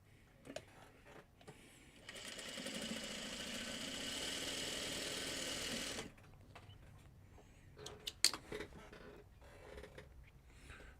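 Home sewing machine stitching pieces of a Farmer's Wife Shooting Star quilt block, a steady mechanical whir running for about four seconds with quieter handling clicks before and after.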